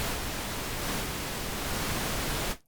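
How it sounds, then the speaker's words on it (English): A dense, even hiss of pink noise test signal holds steady for a couple of seconds, then cuts off abruptly into silence. "If we just send some pink noise,"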